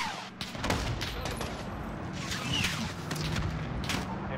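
Rolling gunfire and explosive bursts from a missile launch in the video game Call of Duty Modern Warfare campaign, a dense, continuous battle din with layered shots and booms throughout.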